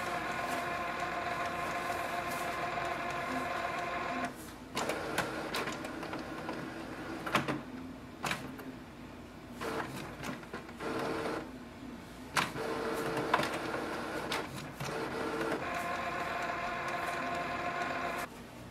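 A Canon Pixma G6020 inkjet printer runs a print head cleaning cycle, whirring and humming mechanically with intermittent clicks, shifts and pauses as the carriage and pump work, steady and close with no talk.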